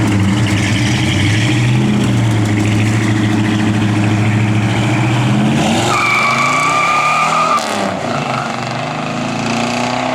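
A 1969 Ford Torino Cobra revs hard and drives off fast, its loud engine roaring close at first and then pulling away and fading over about ten seconds.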